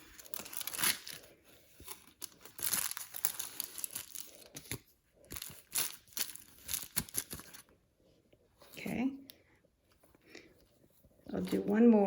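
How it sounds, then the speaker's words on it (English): Foil being pulled, folded and pushed up while highlighting hair at the nape: close crinkling and tearing rustles in irregular bursts with pauses, quiet overall. "when I pull down the foil slip, I'm going to hold the hair here at the end. And I'm pushing the foil up."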